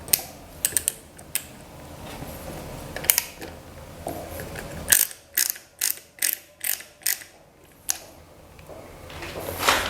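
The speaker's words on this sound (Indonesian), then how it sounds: "Kemudian ini bautnya kita pasangkan. Kita kencangkan aja sekalian." A ratchet-like tool clicks while tightening a bolt on a brass sink siphon, with scattered clicks early on and then a close, steady run of about eight evenly spaced clicks near the end.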